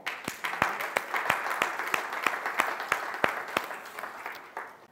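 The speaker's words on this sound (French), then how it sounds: "Sous vos applaudissements." A modest audience at a public securities market conference presentation claps for an introduced speaker: distinct, individual hand claps ring out in an uneven patter over soft room noise, steady for about five seconds before tapering.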